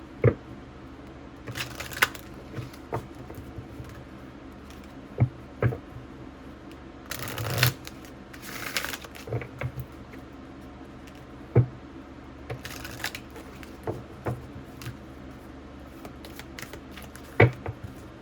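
Tarot cards shuffled by hand in short riffling bursts and taps, irregular and close, with quiet gaps between handfuls and no voice.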